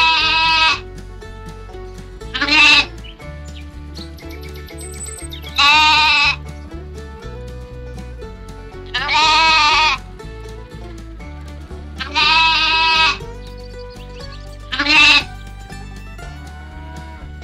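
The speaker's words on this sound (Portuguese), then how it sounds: "Seu Juca, qual que é o som das ovelhas, homem?" Farm sheep bleat loudly and close by in five separate wavering calls spaced a few seconds apart, set over a steady musical backing.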